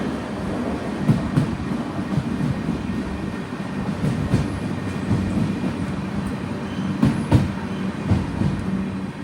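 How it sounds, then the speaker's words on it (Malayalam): A train pulls into platform 4 at Kayamkulam Junction station, rumbling steadily nearby, wheels clacking over rail joints with occasional metallic clanks, a continuous heavy rolling sound. "4ലേക്കാണ് ട്രെയിൻ വന്നത്"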